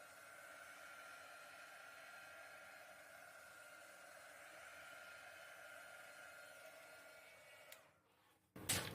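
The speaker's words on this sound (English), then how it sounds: "I'm going to blow this with a heat gun quick." Heat gun blowing a steady hot-air stream over a silicone oil galaxy paint pour, a continuous loud whooshing rush that cuts off near the end, followed by a brief burst of clatter.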